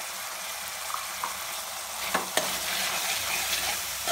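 Pav bhaji masala, chilli, turmeric and salt being stirred into a sizzling pan, a steady fry hiss with soft scraping strokes and a couple of sharper clanks from the spoon, no voices.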